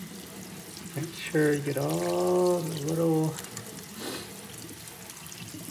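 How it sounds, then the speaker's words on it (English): Tap water runs over crawfish held in a sink for a final rinse, a close, steady pour with a brief louder gush in the middle. A voice talks briefly over it. "final rinse of the crawfish."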